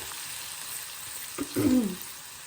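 Masala spices hit hot oil in a pan with a soft background hiss, then a brief louder burst of sizzling as they are stirred in.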